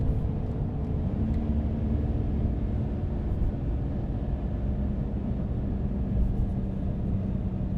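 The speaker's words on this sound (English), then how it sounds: "I'm gonna do some just engine braking here to slow down." 2025 Ram RHO truck engine braking while towing, a steady low drone and rumble from inside the cab with no talk.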